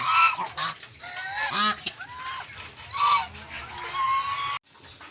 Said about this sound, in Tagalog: ito naman yung mga native na manok